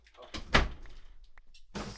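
Room door pushed shut at home: a soft wooden thump with a faint latch click, close and quiet, and a brief rustle afterward, with no one talking.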